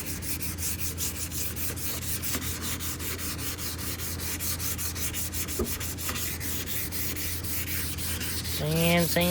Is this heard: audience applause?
no